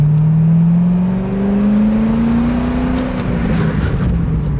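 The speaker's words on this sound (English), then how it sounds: "we're even locking up the front tires" A C6 Corvette with upgraded brakes stops hard enough to lock its front tires, giving a loud, close, steady engine drone that rises slightly in pitch, with rough tire and road noise underneath.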